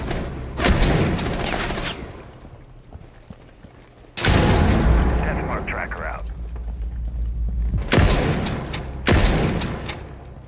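Rifle shots in the Rainbow Six Siege video game ring out as several loud, sharp booming cracks, spaced a few seconds apart, each with a rumbling tail, while players talk over the game sounds.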